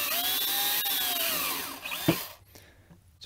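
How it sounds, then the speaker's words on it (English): A power drill with an 11/64 bit bores through plastic into wood, a close, steady whine for about two seconds that winds down with a brief knock before near quiet. "Put my 11/64 drill bit, drill the holes"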